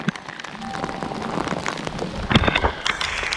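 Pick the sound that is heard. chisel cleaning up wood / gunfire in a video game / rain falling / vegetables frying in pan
rain falling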